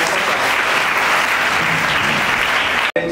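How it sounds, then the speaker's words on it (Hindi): An auditorium audience gives loud, sustained applause welcoming Professor Chandra at a philosophy commemoration and honour ceremony, a dense, even roar of clapping that cuts off abruptly near the end. "कृपया जोरदार तालियों से प्रोफेसर चंद्रा का स्वागत करें।"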